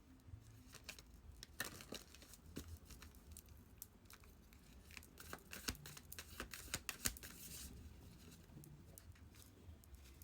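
Soft, quick riffling and patter of cards being shuffled, close by and quiet, in several short bursts with no talking.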